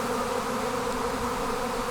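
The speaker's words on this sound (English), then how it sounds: "the bees are swarming in my apiary" Honey bees swarming in an apiary, a loud continuous buzzing drone from many insects close by, steady and unbroken with no voices.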